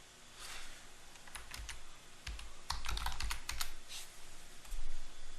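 Quick bursts of keystrokes on a computer keyboard while a password is typed, irregular clusters of soft close clicks with short pauses between them.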